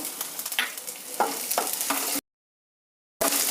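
Green chillies, ginger and curry leaves fry in a pan with chana and urad dal, a steady close sizzle broken by stirring scrapes, then a second of silence before the frying resumes.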